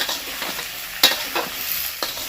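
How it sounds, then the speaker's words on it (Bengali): Mixed vegetables fry in a pan, a continuous close sizzle broken by a few sharper spatula strokes and crackles, alone without voices. "এবার এইগুলোকে ভেজে নিই ভালো করে"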